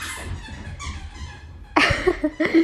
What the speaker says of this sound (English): He's literally running around the house with his little squeaky toy.